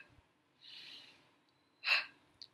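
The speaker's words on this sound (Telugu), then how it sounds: "గాలి తీసుకొని వదిలేటప్పుడు గట్టిగా వదలాలి నోట్తో" Two forceful huffing breaths pushed out through the mouth, part of a breathing exercise for COVID patients to clear the lungs, sounding as short, close airy bursts with quiet between them.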